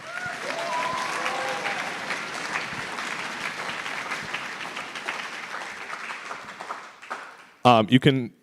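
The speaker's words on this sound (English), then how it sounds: "How about a big round of applause for Greg?" A school chorus and orchestra concert audience breaks into broad applause that swells and holds for several seconds before thinning out, with a voice speaking over the tail end.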